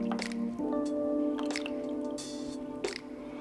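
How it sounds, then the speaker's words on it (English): A potted plant set into a vessel of water for bottom watering gives wet drips, squishy gurgles and small bubbling pops, close and fairly quiet, with no speech. "let me grab a vessel and we can watch this bad boy soak up some water"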